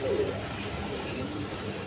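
A pigeon nesting on its eggs in a loft gives a short, low coo near the start, then steady ambient hum continues for a couple of seconds with no speech.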